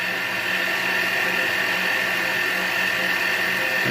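Metal lathe taking slow, light finishing cuts on a metal ring, a steady high-pitched motor whine with a constant mechanical hum, close and loud, no talking.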